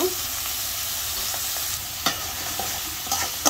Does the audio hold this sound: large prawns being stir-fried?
yes